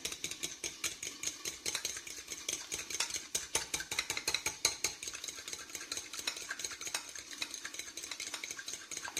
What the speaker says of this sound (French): Je vais battre les œufs avec une fourchette.